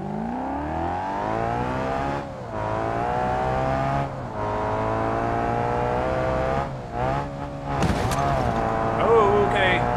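A Ferrari-like convertible in BeamNG Drive drones with a strong, steady engine tone that dips and climbs as it runs downhill, with brief breaks in the sound and a harsher flurry toward the end.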